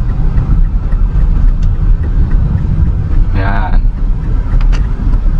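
Manual car pulling away on an uphill road with clutch fully released at about 8 to 10 km/h, a steady low engine rumble filling the clip, with a voice speaking briefly over it.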